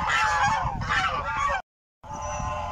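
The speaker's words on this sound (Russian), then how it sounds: "Гусей сейчас отведем с Игорем на озеро." A flock of domestic geese honks loudly and close by as they are herded to a lake, noisy overlapping calls that break off briefly before resuming.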